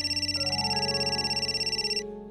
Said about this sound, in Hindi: बाबूजी का फोन है।